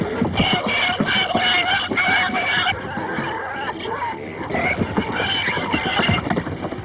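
Pigs packed into a crowded farm cart squeal and grunt continuously over a rumbling, jostling background, loud and busy throughout.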